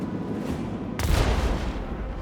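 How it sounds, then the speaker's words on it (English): A torpedo strike explodes against an enemy ship in the space-combat video game Rogue Trader: a sudden, loud, broad blast about a second in that rumbles on over a steady din of battle noise. "Time to go hit this thing with some torpedoes. It should blow up."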